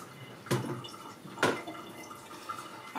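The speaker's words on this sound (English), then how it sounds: "In here, I'm going to add a little water" A little water is splashed into a cooking pot of Nigerian ogbono soup, giving two short, close splashes with faint drips in between, quiet and without talk.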